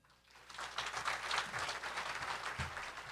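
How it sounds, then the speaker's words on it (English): Banquet audience breaking into steady, dense clapping that swells quickly and holds at full strength, a roomful of hands applauding together with no talking over it. "Clap if you agree with the statement, look on the bright side."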